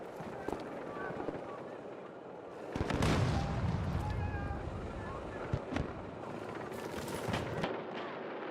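Sniper rifle gunfire in a video game: several sharp cracks and bursts of shots, with a heavy loud stretch in the middle, set against a battlefield rumble and occasional voices.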